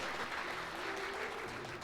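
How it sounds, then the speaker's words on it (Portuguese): Church congregation clapping during a sermon, a dense, even wash of applause at moderate distance lasting a couple of seconds, with no voices standing out. "Aplaude ele do tamanho da sua vitória"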